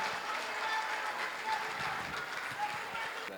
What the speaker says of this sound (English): a round of applause for the winner of this category, Dr. Fatoumata Diba.